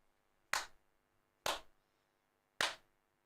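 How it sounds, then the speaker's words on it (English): Three single hand claps ring out in a room, evenly spaced about a second apart, each sharp and fairly loud with a short echoing decay and quiet between them. "When you clap, there's a bit of an echo."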